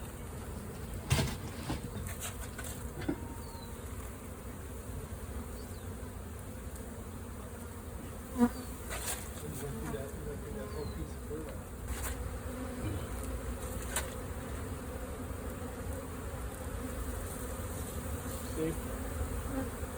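A huge swarm of bees drones steadily throughout while it is being captured outdoors, a dense, continuous buzz with a few sharp knocks and brief voices near the start.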